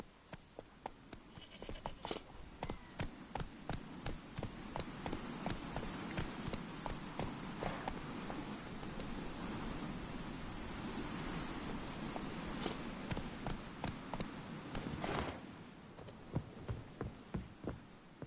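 Roach, a horse in The Witcher 3 on PS5, gallops in a fast, steady run, each hoofbeat a sharp thud over a wash of wind-like background noise.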